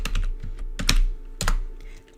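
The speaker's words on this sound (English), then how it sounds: "Start by typing in your first and last name and then press the Enter key." A name is typed on a computer keyboard in quick, close, crisp key taps, clustered in short bursts over a steady low hum, with no voices.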